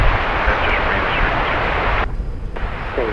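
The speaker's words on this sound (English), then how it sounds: "Flight 2214 from Palm Springs is coming in on runway 18 left" An airliner from Palm Springs lands on runway 18 left at DFW Airport, a steady, loud broadband roar of jet engines and rushing air that persists throughout with a brief dip in its hiss.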